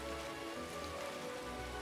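Rain from the weather effect in the Pokémon Omega Ruby video game hisses as a steady, dense patter of raindrops, even and unbroken throughout.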